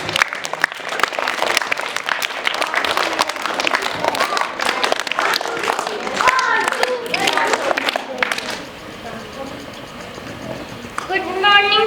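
Schoolchildren and audience clap loudly for a young contestant at an English poem recitation competition, a steady wash of applause with voices talking over it and a voice emerging near the end.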